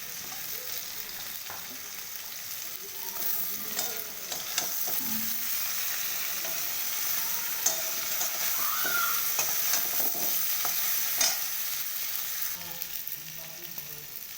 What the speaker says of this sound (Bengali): এবার আমি এই মুহূর্তেই বেগুনগুলো ছেড়ে দেবো